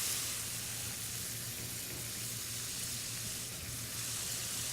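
Food caramelizing in a hot pan gives off a steady, loud sizzle that holds evenly throughout, with no talking over it.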